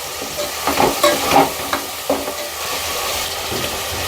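Egg biryani ingredients frying in oil, with a spoon scraping and stirring through the pan in several strokes over a steady, close sizzle.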